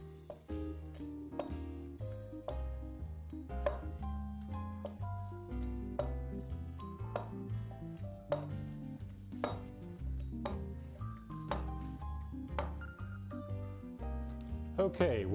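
Pizza cutter rolling through homemade noodle dough on a board, a series of short distinct knocks and clinks in an irregular rhythm at close range, with talk throughout.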